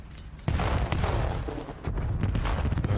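A single sniper rifle shot booms loudly in a Call of Duty League esports match, followed by dense, continuous gunfire and explosive rumble from the ongoing fight.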